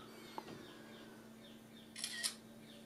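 A budget Blackview A60 smartphone takes a selfie, its shutter giving a quick, faint double click against a quiet indoor background.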